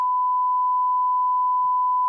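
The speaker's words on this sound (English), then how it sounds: "Cecil, you might want to beep that." Steady censor beep, a pure continuous electronic tone held loud and unbroken for about two seconds with no talk over it.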